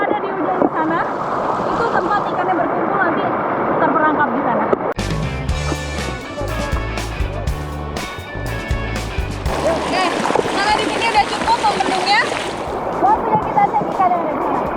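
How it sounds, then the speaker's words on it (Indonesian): A swift, heavy river current rushing past a dammed channel on the Batanghari, a loud continuous wash of churning water interrupted midway by a burst of louder, rumbling noise before the steady roar returns. "Di situ airnya deras banget, bener-bener deh."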